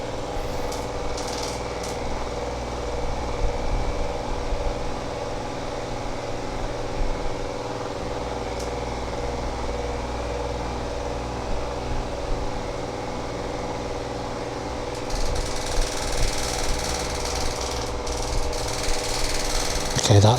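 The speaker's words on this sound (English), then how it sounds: "you can hear the clattering, so you know the build quality of this isn't great, and that rattling noise can be annoying" An electric fan running at its maximum setting gives a loud, steady mechanical whir with clattering and rattling from loose parts, continuous and close throughout.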